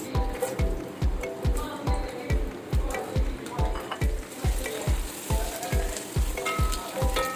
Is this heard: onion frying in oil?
yes